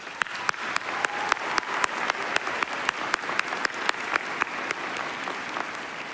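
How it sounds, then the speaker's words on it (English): A university convocation audience claps steadily, a dense, sustained wash of applause with sharper individual claps standing out near the front, holding even throughout. "So let's give them a round of applause."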